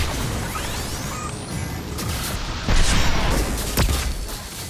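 A flashbang grenade goes off in the Mass Effect 2 video game amid a dense, loud wash of combat noise, with sharp crashing blasts and whooshes layered over constant rumbling.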